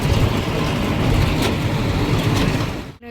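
Inside a moving auto rickshaw, a dense, steady engine and road rumble carries on with no talk, then drops away abruptly at the end.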